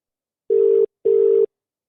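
A telephone line gives two short, steady electronic tone bursts with a brief gap between them, loud and clean against silence, as a call is being placed.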